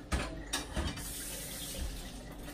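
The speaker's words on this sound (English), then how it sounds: "I'm gonna pour it in my skillet." Marinade poured into a skillet, a faint liquid splash and trickle with a few soft bumps at the start, quiet and close in a home kitchen.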